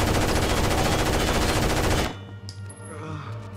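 Loud automatic suppressive fire in the video game Rainbow 6 Vegas 2, in a theatre firefight: a continuous machine-gun burst of about two seconds that stops abruptly, followed by quieter ambient clatter and faint sounds.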